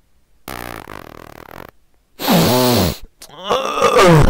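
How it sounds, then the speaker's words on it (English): A drawn-out, groaning fart from a Luigi character, two long loud bursts with a rising and falling pitch, separated by silence, followed by a shorter rough blast. "Now fart!"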